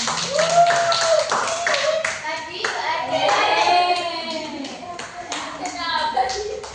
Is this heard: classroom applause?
yes